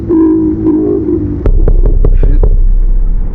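A horror video game creature imitating human sounds, heard as a low groaning, voice-like drone followed by a rapid series of sharp clicking or knocking pulses over a deep rumble, loud and close with no talk.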